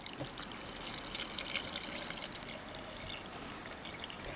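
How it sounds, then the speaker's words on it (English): Water pours into a NutriBullet blender cup filled with wild garlic, wild rosemary and mint, a continuous close splashing hiss with a trickling edge, steady from start to finish. "And we're going to fill it with some water."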